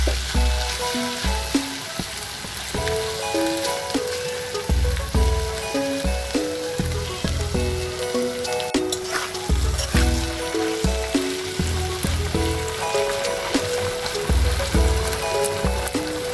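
Beef tripe sautés in a hot pan with a continuous, dense sizzle and repeated scraping stirs in an irregular rhythm, close and steady with no voices.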